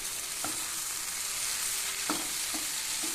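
Ripe tomatoes are stirred into a frying Malabar-style prawn roast masala, a soft steady sizzle with a few distinct spoon scrapes and knocks against the pan.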